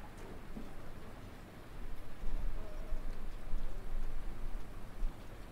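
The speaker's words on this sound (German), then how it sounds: "Oh, der Regen, der lässt aber auch nicht nach, ne?" Steady rain falls around a city bus driving in Berlin, a continuous hiss of drops mixed with low road and engine rumble that swells midway, with no speech.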